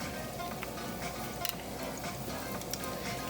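A steady crackling sizzle of chicken pieces for Korean fried chicken frying in hot oil, constant and close with small pops scattered through.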